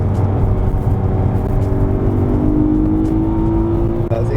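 BMW M3 Competition revving high while driving, a loud sustained engine drone with rising pitch as it pulls through the revs, heard from inside the car, ending with a brief dip near the end.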